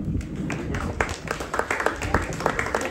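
An audience claps before a Marathi radio play reading. The sharp, uneven claps are moderately loud and mixed with background murmur and voices.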